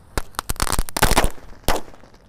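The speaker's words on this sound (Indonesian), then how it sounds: "lanjut ini mercon telur dino yang jumbo atau telur dinotor kita nyalakan warna merah dan hijau guys" A jumbo dino egg firecracker, a red and green mercon, goes off in a rapid string of sharp, loud bangs with a final separate blast, crackling close by with no talking.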